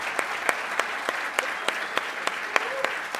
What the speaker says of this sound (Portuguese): eu queria pedir uma salva de palmas para ela